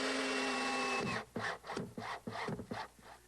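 Screws being driven into a plywood mast step on a boat's keelson, a steady power-driver whine that cuts off, followed by several close, rhythmic woody ratcheting bursts.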